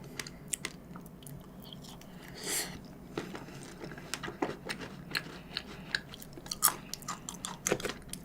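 Strawberries being chewed during a Korean food-show meal of jokbal and strawberry tart dessert, with soft, irregular crunchy bites and mouth sounds close up, no talk.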